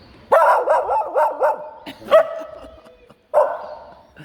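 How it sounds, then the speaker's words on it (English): A small schnauzer barks close by: a quick burst of sharp, yappy barks, then a single bark, a brief pause and one more drawn-out bark. No one talks. "A little schnauzer coming up here, this little schnauzer dog."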